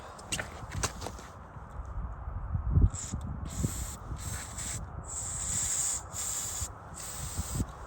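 Carburetor cleaner sprayed into a snowmobile carburetor in a Skandic scrapyard: several bursts of hissing aerosol spray, close and steady, with rubbing and handling noises between them and no talk.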